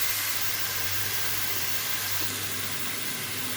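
Steamed cauliflower and potatoes go into a hot pan, giving a steady, loud hiss of steam and sizzle that holds evenly for a few seconds, with no voices.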